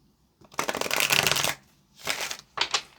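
Tarot cards are shuffled up close, with one long riffling burst followed by two shorter bursts of papery fluttering.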